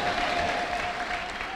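A congregation applauds during a church service: dense, steady clapping from many hands, continuous and fairly loud throughout, with a faint sustained tone running through the crowd noise.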